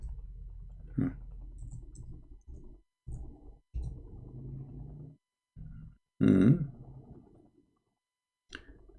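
Computer keyboard typing in short clustered bursts of clicks separated by silent gaps, close and clear, with no speech.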